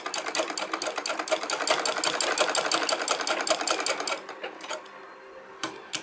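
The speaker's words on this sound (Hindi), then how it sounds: "ये अब मैं आपको सिलना बता रही हूँ" A sewing machine stitches scraps of waste cloth for a small seat for god idols, running in a fast even rhythm for about four seconds before slowing and stopping with a few faint clicks.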